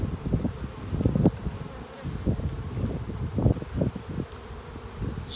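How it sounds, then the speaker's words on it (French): Saskatraz honey bees swarming in a hive, a steady close buzzing drone with fluttering pulses of louder wingbeats rising and falling, heard alone without voices. "je viens de réaliser cette ruche-là ici, c'est notre essaim"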